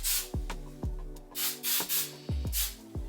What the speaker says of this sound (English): I just spray it with hairspray